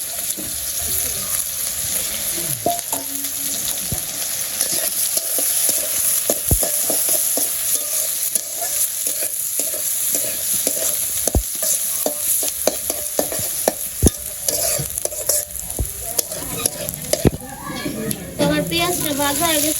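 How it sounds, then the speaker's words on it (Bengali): Onions and cumin seeds fry in hot oil with a steady, continuous sizzle, broken by frequent clinks and scrapes of a spoon stirring the pan, as a voice talks over the cooking. "তো আমার তেল গরম হয়েছে, জিরে লাগিয়ে দিয়ে দিলাম। পেঁয়াজ দিয়ে দিলাম।"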